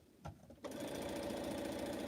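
A sewing machine chain piecing quilt blocks, starting with a couple of short stitches and then running steadily in a rapid, even mechanical whir, close and continuous.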